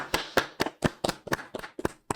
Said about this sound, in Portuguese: Uma salva de palmas pra mim